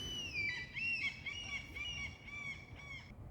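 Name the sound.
geese honking outdoors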